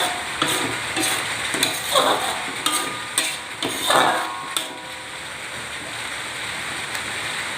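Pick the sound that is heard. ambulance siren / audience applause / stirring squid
stirring squid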